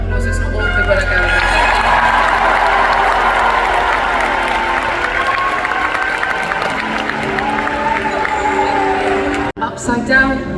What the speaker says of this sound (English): let's just get a round of applause